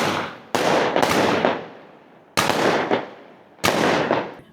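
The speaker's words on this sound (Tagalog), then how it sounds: "Fireworks." New Year firecrackers and fireworks going off outside, three loud sharp bursts of rapid crackling, each fading out before the next, heard close with no talking.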